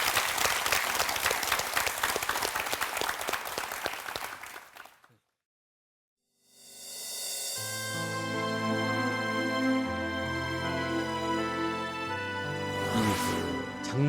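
An audience bursts into sustained applause, dense clapping that fades to silence, after which music swells in.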